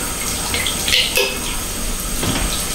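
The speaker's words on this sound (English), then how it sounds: "With cans, you have to make sure not only to rinse them out, but also to remove their top." A can rinsed under a running tap for Japanese trash disposal, steady close splashing and hissing water with a few brief clinks and sloshes, no voices.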